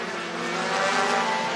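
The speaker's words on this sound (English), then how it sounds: "Hot shot, hot laps on the racetrack for their practice session right now." Race cars run practice hot laps on a racetrack at an ice bowl event, a dense continuous roar of engines with some tire squeal, loud and sustained with no talking.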